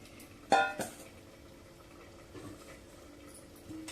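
A sharp metallic clank of a wide, heavy metal cooking pot being set down, followed by softer knocks and faint bubbling in a quiet kitchen while cooking beetroot kootu.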